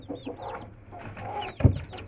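Domestic hens in a yard cluck and squawk in short bursts while they scuffle, with a sharper loud squawk near the end, fairly close and without talk.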